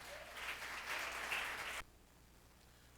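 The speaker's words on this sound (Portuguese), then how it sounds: "Podemos aplaudir o Senhor nessa noite?" Church congregation applauding during a worship service, a steady moderate clatter of many hands lasting under two seconds before cutting off abruptly to near silence.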